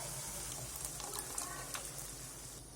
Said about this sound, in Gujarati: લસણ અને ડુંગળી સતરાઈ ગયા છે એની અંદર આપણે ગ્રેવી નાખી દઈશું